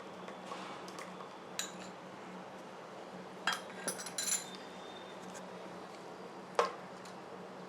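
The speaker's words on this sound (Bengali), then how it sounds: "তুলসীর বীজটাকে ভিজিয়ে রেখেছিলাম, সেটাকে আমরা একটু এর সঙ্গে মিশিয়ে নিচ্ছি।" A spoon stirs soaked basil seeds into homemade plant-based milk, with a few light clinks against the container spaced out over quiet room noise and no speech.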